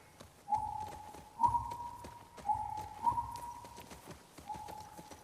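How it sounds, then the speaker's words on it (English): Horse hooves clip-clop in a steady galloping rhythm in The Last of Us Part II, with repeated hoof strikes and a tonal whine running beneath them and no talking. "Ellie Dina just got on their horse and we're off across the very grassy, overgrown city"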